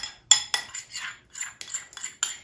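A spoon scoops heavy whipping cream into mashed potatoes, giving a string of short metallic clinks and scrapes against the bowl, close and fairly crisp, about eight taps spread over a couple of seconds.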